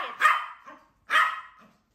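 A dog barks from jealousy indoors while guests visit, two clear barks about a second apart, each with a short trailing yelp, loud and close with no talking.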